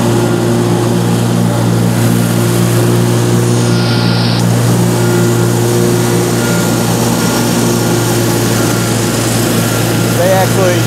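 A lawn mower cutting grass at a 3.25-inch deck height drones loudly and steadily close by, its engine hum unbroken throughout, with wind on the mic.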